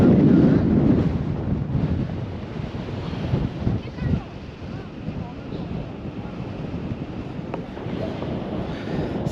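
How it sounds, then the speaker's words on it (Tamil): Strong wind roars across a hillside on a Kerala road trip to Vagamon, a loud continuous rumble buffeting the microphone, gusting hardest at the start, while someone talks over it. "வாய்ஸ் கேட்குதான்னு தெரியல, பயங்கரமாக காத்தடிக்குது."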